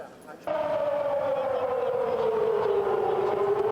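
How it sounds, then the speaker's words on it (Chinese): An air raid siren wails during a Wan An civil defense drill in northern Taiwan. It starts abruptly and holds one loud, sustained tone that slowly sinks in pitch. "空袭警报响起"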